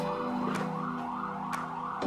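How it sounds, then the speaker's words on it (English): A faint emergency vehicle siren drones steadily outside, distant and continuous, with a few soft clicks indoors. "siren going on while I'm trying to record"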